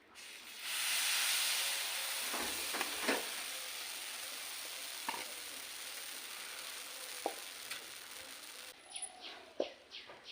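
A raw mango pancake frying in a pan gives a soft, steady sizzle and hiss, with occasional faint clicks and taps from a utensil, quiet and close.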